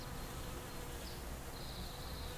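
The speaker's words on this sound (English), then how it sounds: "That is a wasp." A wasp buzzes outdoors in light rain, a thin, wavering drone rising and falling at close range over a steady patter of rain, with no voices.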